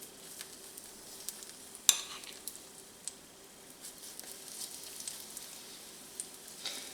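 Corn fritter batter frying in a pan gives a quiet, steady sizzle with scattered small pops and crackles, one sharper crackle near the start, and no talk.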